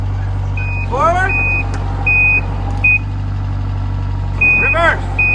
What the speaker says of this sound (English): What's that sound? It's a beeper.